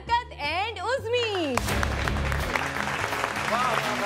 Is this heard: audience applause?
yes